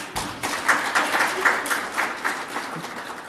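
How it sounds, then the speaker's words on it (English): Hall audience at a lecture series claps for panelists, a moderate, fairly even round of applause with soft rhythmic peaks throughout, somewhat distant and room-toned. "you can clap hands for them"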